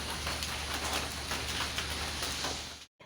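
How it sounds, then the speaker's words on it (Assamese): Steady rain falling in bad weather, a dense, even hiss of drops that holds for about three seconds and then cuts off abruptly. "বতৰ একেবাৰে বেয়া বৰষুণ দি আছে"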